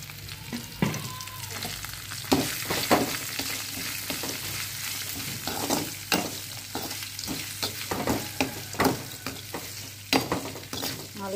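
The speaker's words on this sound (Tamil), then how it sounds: "நல்லா கண்ணாடி போல வர வரைக்கும் நல்லா வதக்கணும்" Chopped onions sauté in a pan with curry leaves and a pinch of asafoetida, for coriander-leaf rice. A steady, close sizzle runs throughout, broken by regular scraping stirs of the spoon.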